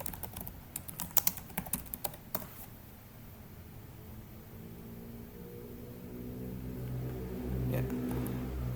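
Rapid clicks from typing on a computer keyboard, loud and dense over the first two and a half seconds, then stopping and leaving a low steady hum.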